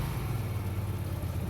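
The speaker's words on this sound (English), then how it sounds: "So let me accelerate and show you how the exhaust sounds." A Hyosung Aquila GV 250 V-twin motorcycle runs with a steady, low exhaust rumble, a close and continuous engine note with no talk over it.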